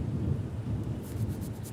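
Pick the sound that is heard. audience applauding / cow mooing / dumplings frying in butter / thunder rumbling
thunder rumbling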